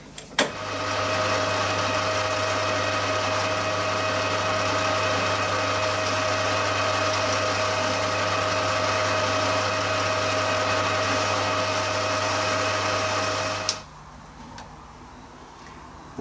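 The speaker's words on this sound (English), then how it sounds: "so it's going to give me some tailstock support, so we'll just face this off." A lathe facing off a cast sandblast gun part with tailstock support, giving a steady, loud motor whine and a constant tonal hum that runs unbroken for about thirteen seconds and then stops abruptly.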